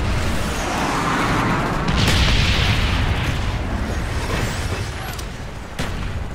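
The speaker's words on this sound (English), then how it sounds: "Napalm strike coming in." Napalm strike explosion in Black Ops 1, a loud rumbling boom swelling into a roaring burn that rolls on for several seconds, with faint pops and battlefield noise and no talk.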